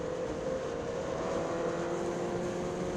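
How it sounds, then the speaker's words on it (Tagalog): A Suzuki GSX-R1000 sportbike's intake roars steadily while riding on a long road ride in Batangas, heard close and loud as a continuous whoosh blended with wind, with no speech. "Pag hinahanap ko yung tunog ng inlet ko"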